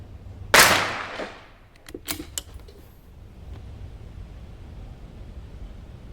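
A single sharp .22LR rifle shot fired at a target on a shooting range rings out near and loud, followed by a few fainter clicks and mechanical handling sounds, then quiet room tone.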